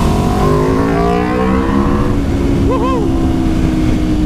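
Sport motorcycle engine, from a BMW S1000RR versus Aprilia RSV4 1100 Factory comparison, revving loud and close, with a rising pitch that drops back after a couple of seconds; a voice briefly cuts in near the end.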